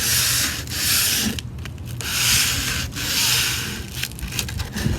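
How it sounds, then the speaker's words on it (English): Sandpaper rubs along the edges and grooves of spray-painted wooden furniture being distressed, a close, steady scraping in rhythmic back-and-forth strokes with brief pauses, no voices. "Just going to take and distress along the edges and inside the grooves."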